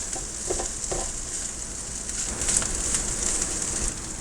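Kale fried rice sizzles steadily in a hot pan after soy sauce is added, a continuous close frying hiss with a few faint clinks and no talking.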